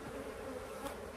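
Honeybees, including drones, buzzing on a wall comb of a beehive frame, a steady close drone with no voices.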